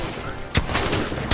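Apex Legends gunfire in a match: two sharp, loud shots spaced under a second apart over a steady background hum.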